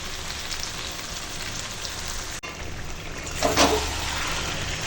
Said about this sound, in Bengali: এখন দিয়ে দেব স্বাদ মতো লবণ লবণটা দিয়ে আর ভাজি